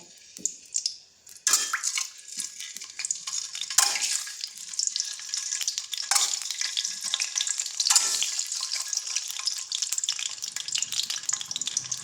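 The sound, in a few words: eggs frying in oil in a pan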